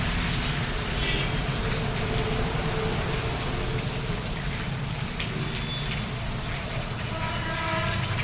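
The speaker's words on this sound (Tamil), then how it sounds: "ஸோ செம்ம மழைங்க" Heavy rain falls steadily during a motorcycle trip toward Chennai, a dense, continuous broadband wash with a low rumble beneath, loud and unbroken throughout.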